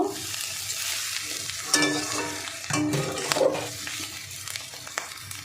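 A splash of water goes into a pan of frying fish roe and potatoes, a sharp burst of hissing over the ongoing sizzle, with stirring scrapes before and after, close by.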